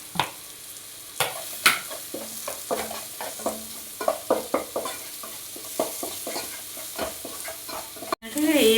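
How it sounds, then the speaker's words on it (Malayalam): Tomato curry with turmeric and chilli powder is stirred in a pan for dal, giving a soft sizzle under rhythmic spoon scrapes and taps, close by, ending in a louder burst at the end, with no voices. "ഇത് നമ്മളിങ്ങനെ ഇളക്കി കൊടുത്താൽ മതി."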